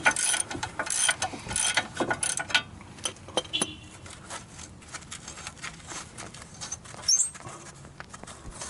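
Ratchet wrench tightening a bolt on the front brakes of a 2011 Mitsubishi Lancer, giving rapid clicking bursts, loudest early on, then lighter intermittent clicks and handling noises, close up with no talk.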